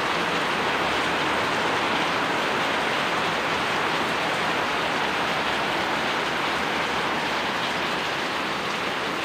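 Heavy rain pours in a dense, unbroken hiss, loud and constant throughout, with no other sounds standing out.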